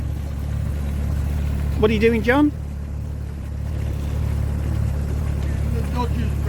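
A low, steady engine drone runs throughout beneath wind and water noise, while a person briefly speaks over it partway through.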